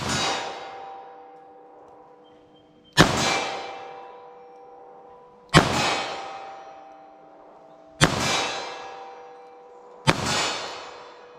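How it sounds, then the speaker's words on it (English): A .38 Special revolver fires five sharp, loud shots at a target, spaced about two to three seconds apart. Each report is followed by a ringing metallic decay. "So see if I can make any hits with this 38 Special here."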